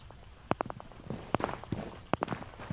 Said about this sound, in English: I hear one coming up the stairs.